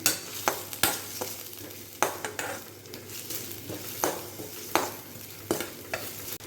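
Sliced onions sautéing in a pan for chicken kurma, a steady close sizzle broken by sharp scraping and clinks of a spoon stirring against the metal.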